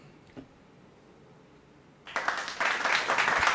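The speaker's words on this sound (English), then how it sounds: "I'll wait for that, for the applause." After a quiet stretch with a single faint knock, audience applause breaks out suddenly and builds into steady, fairly loud clapping that continues to the end.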